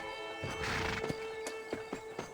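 A horse in the Western video game Red Dead Redemption snorts and shifts, with a brief whinny-like burst followed by several sharp hoof clops and knocks, fairly close and loud against steady game ambience.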